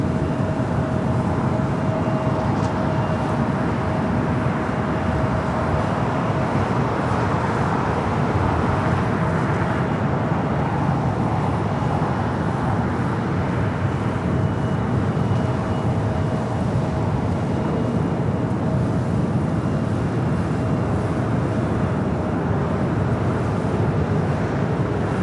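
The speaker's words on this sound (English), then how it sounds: "Next takeoff, American Airlines flight 1528 heading to Philadelphia." An American Airlines A321neo jet takes off from runway 25 Right at LAX, a steady broad roar heard from a distance that holds without a break, with no talking.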